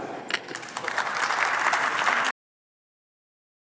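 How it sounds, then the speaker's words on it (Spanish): Applause breaks out in the Senate chamber, a full crowd clapping steadily for about two seconds before cutting to silence. "Aplaudamos."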